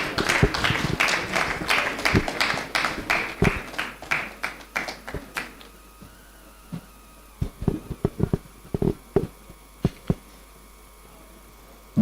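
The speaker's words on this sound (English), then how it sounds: "Please a round of applause for him." Scattered applause from a conference audience at a budget meeting, a dense burst of claps at first that thins into sparse, separate claps and then fades out.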